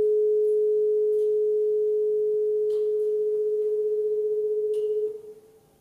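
Two sine tones at 422 Hz and 445 Hz sound together as one steady pure tone that pulses with rapid regular beating, then fades out over the final second.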